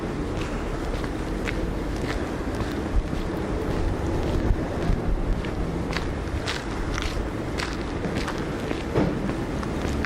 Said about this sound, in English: I hope the wind is not too bad now.